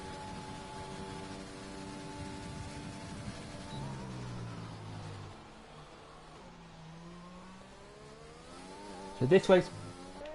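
A race car engine drones on an onboard lap at the Bahrain GP in an F1 esports video game, a steady tonal whine rising and falling through gear changes beneath continuous commentary, with a short louder burst near the end.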